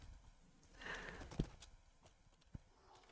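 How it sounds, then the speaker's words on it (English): Giant skeleton horses in Minecraft step along with a few faint, sparse hoof clops over quiet background noise. "So we have giant skeleton horses."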